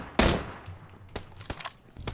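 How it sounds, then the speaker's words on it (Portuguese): Gunfire in the battle-royale game PUBG: a loud opening shot followed by three sharper, spaced cracks, close and punchy with no talk over them. "Eu dei tiro nele"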